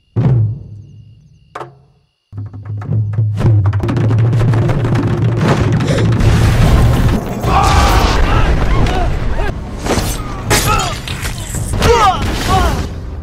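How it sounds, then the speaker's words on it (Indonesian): A burst of sharp firecracker bangs and crackles erupts after a brief quiet, continuing loudly over a dense, noisy background with music. "si penari entah bagaimana tiba-tiba melemparkan mercon ke arah Raja Sena dan pejabat kerajaan lainnya"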